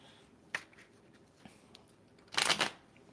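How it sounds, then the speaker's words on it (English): Tarot cards shuffled by hand, a couple of short riffles and taps followed by one louder, longer riffling burst, heard close and alone without speech. "Let's do a shuffle."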